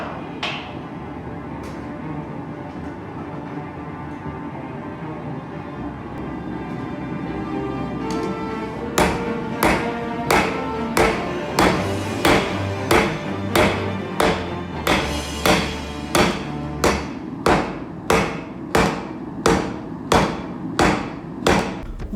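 Hammer blows forge a coil spring steel billet into a hatchet head. The first part is quieter shop noise, then a steady run of loud, evenly spaced metallic strikes follows, close and alone without talk.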